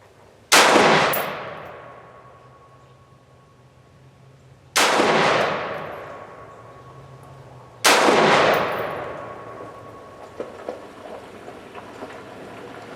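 A custom AR-15 rifle with an FN barrel fires 75 grain hollow point rounds outdoors, three loud, sharp single shots spaced a few seconds apart, each trailing off in a long echo.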